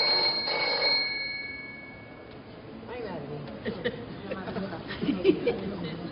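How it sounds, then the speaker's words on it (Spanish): A telephone rings with a bright electronic trill for about a second, then fades out as people start talking in a room. "Llamada de teléfono."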